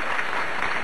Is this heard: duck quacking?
no